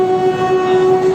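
Train 12792 Danapur–Secunderabad Superfast Express pulling into Mancherial station, sounding one brief, loud, sustained horn tone.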